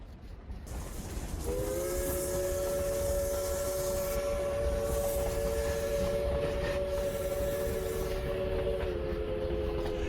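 A Durango narrow gauge steam train sounds a long, loud, steady steam whistle over a constant hiss and rumble of the running locomotive, held for several seconds before easing off.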